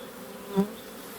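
Honey bees buzz at a hive during colony work, a quiet background hum with one bee droning briefly louder as it passes close by.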